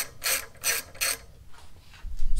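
A ratchet fitted with a 6 mm hex bit loosens the pinch clamp bolt on a Harley-Davidson touring motorcycle's front wheel, giving three loud, close bursts of clicking, followed by fainter ratcheting and a low thump at the end.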